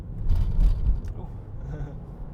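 Car rolling over a bumpy gravel road, a steady low rumble with rough, uneven low-end thumps and a fainter hiss of stones under the tires, loudest in the first second.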